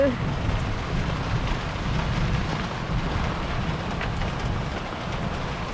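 Continuous rain pours with a dense low rush, steady and fairly close, with a deep rumbling undertone throughout.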